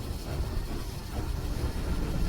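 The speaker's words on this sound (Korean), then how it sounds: "뭐야 뭐야 열차가 속도가 안 줄어" A train rumbles steadily and gathers pace, a dense low roar of wheels and engine that keeps building without easing, heard alone with no voices.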